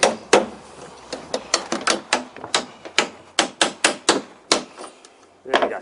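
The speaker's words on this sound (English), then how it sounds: "in goes the last nail" A hammer drives a nail into a concealed deck fastener at a butt joint in decking, a rapid series of about twenty sharp close blows in a steady rhythm, then a short pause and a final strike.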